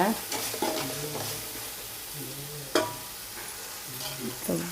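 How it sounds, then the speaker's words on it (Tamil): Ground masala for Dindigul thalapakatti mutton biryani sautés over a medium flame, the spatula scraping and stirring in repeated strokes over a continuous sizzle, with a couple of sharper knocks against the pan. "இது இப்படி வதக்கி ஒரு 2-3 நிமிஷம் நல்லா இந்த மசாலாவை நல்லா ஒன்று சேர வதக்கிட்டு"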